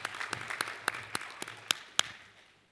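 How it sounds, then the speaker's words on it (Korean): In a church, a handful of claps ring out in a loose, fairly even rhythm, about ten in all, sparse and quiet rather than a full crowd's applause, then fade away. "이사하신 모든 분들을 향해 칭찬과 박수를 부탁을 드립니다"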